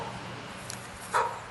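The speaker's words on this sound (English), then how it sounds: "doggy barking." A dog barks once or twice at a distance, brief and faint over steady outdoor background noise.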